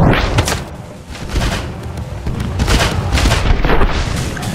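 Gunfire in a Roblox shooting game, a loud, dense run of rapid booming shots that barely pauses.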